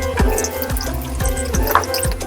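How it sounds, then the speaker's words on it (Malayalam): Mutton stock is poured into biryani masala, heard as close splashing and sloshing liquid with irregular drips and glugs. "ഇനി ഇത് മസാലയിലേക്ക് ഒഴിക്കാം."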